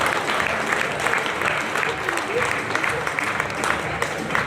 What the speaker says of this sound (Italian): Un applauso all'associazione.